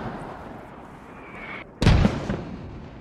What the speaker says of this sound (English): Mortars are going out in this.